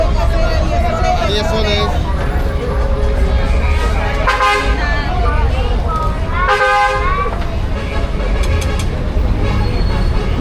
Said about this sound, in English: more have I heard so many horns in my life. They're bloody loud